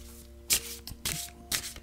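Osho Zen transformation tarot cards are shuffled by hand in three quick, crisp riffling bursts at regular intervals, close up over a faint steady hum.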